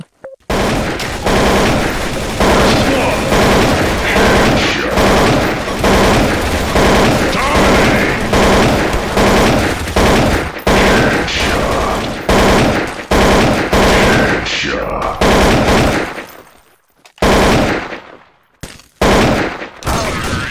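Loud, sustained automatic gunfire in the video game Counter-Strike: Source, rapid bursts running almost continuously with brief pauses near the end and occasional voices underneath.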